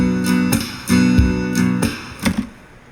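A programmed drum beat in a recording session plays punchy kick and snare hits at a steady tempo, one snare landing slightly behind the beat, clear and upfront with no voices.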